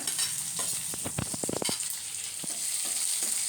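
Curry leaves and chopped onion fry in a pan for a beetroot and raw mango palya, a close, constant sizzle broken by a quick run of sharp stirring scrapes and clicks in the middle.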